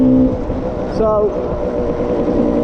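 A Lambretta scooter engine running while riding on a test road near a beach, giving a loud, steady droning hum throughout, with a voice speaking briefly over it.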